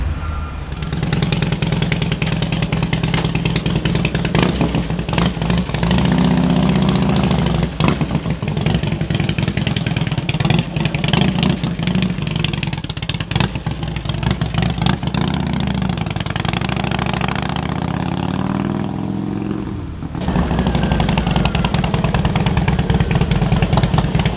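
A Harley-Davidson Heritage Softail from a budget rebuild runs loud and close for a long stretch, its engine rumbling with rough clatter and swells of revving; there is a brief dip near the end, then it picks back up, with no talking.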